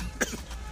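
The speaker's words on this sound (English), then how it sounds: "this guy cough na serious matter" A single short, wet-sounding cough from a man, heard once at moderate volume against a quiet background with no talk.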